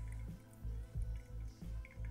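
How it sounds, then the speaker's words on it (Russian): Pour-over coffee brewing, with hot water dripping through ground coffee into the vessel below. The drips are faint and fall slowly at irregular intervals against a quiet, low background hum. "осталось дождаться только, когда весь объем воды пройдет через молотый кофе"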